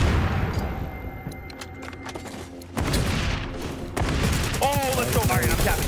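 Bursts of gunfire and heavy grenade blasts crowd an XDefiant firefight, dense and loud throughout, with a sharp boom near the midpoint and continuous shooting after it; a voice talks faintly underneath.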